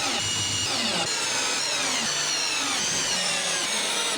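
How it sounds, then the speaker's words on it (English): A power tool drives fasteners through an aluminium stretch-ceiling perimeter profile into the wall for a DIY ceiling with LED strip lighting, a loud, steady high-pitched whine holding continuously with only slight shifts in load. "I fasten the profile approximately every 15 centimeters"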